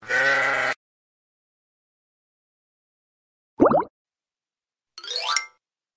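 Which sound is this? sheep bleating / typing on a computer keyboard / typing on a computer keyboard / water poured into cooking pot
sheep bleating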